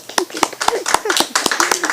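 Steady, rhythmic hand claps, a few per second, from an audience honoring a brave mother at a televised gathering, with voices talking over them throughout.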